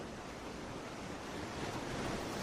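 Steady ocean surf, a continuous broadband wash of waves with some wind, swelling slightly louder toward the end.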